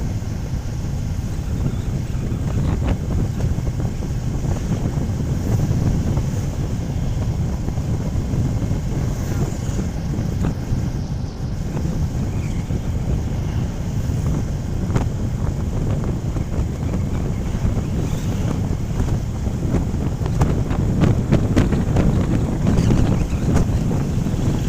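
Steady wind rush buffets the microphone while riding a new Royal Enfield Classic 350 motorcycle on the road from Pondicherry to Villupuram, a loud continuous roar with little change throughout.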